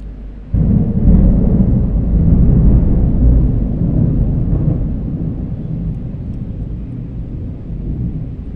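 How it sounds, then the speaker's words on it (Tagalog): A sudden loud crack of thunder during a heavy rainstorm breaks in, then rolls into a long, deep rumble that slowly fades. "Nakakatakot yung kulog."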